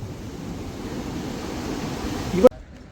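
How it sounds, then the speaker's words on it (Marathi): Steady broadband roar of surf and wind, a continuous wash of big breaking sea waves on a beach at Alibag, cutting off abruptly near the end. "या लाटा किती मोठ्या मोठ्या बाबो"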